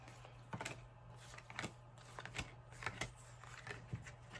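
Tarot cards are shuffled by hand, giving sharp riffling and tapping bursts that come at irregular intervals over a low, steady hum.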